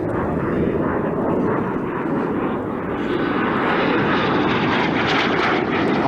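A Gnat jet powered by a Bristol Siddeley Orpheus engine roars past at an air display, a loud, continuous, broadband jet rumble that swells and holds close overhead.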